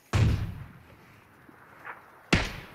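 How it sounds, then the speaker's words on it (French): In a video game a grenade goes off with a sharp, loud blast, followed by a quieter thud and then a second close, sudden explosion. "je vais lancer une grenade"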